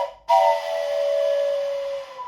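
A handheld train whistle, the kind that mimics an old steam train, gives one loud, breathy chord-like blast right up close after a brief silence, holding steady for about two seconds before tailing off.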